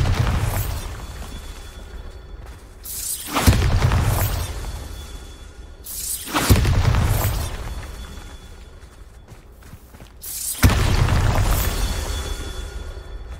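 Bombarda spell explosions in the Hogwarts Legacy video game: three loud, heavy booms, each with a long rumbling decay, arriving a few seconds apart with no talk.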